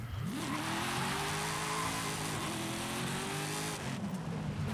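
Engine of a car in the racing game Forza Horizon 5 driven with assisted braking, steady loud motor drone that rises in pitch then holds and eases off, with faint tire noise and no talking.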